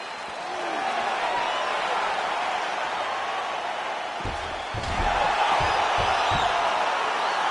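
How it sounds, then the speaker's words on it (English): Crowd noise in the UFC 4 video game as a middleweight fight gets underway, a steady roar of cheering that swells louder partway through, with a few thumps near the end. "Crowd getting excited as this fight gets underway"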